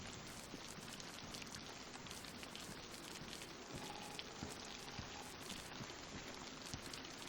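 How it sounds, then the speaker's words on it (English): Rain in the video game DayZ, a steady, dense patter of drops on surfaces, continuous and faint throughout with no speech. "But it is raining again"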